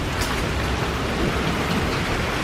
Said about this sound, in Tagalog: Naku po, ang lakas ng ulan.